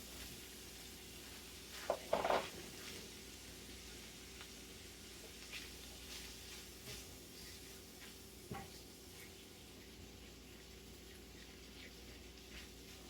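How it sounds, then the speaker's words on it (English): Corn goes into a hot pan on a gas stove with a short burst of scraping and clatter, then a faint, steady sizzle continues with a few small stirring knocks. "And then next we're going to go in with our corn."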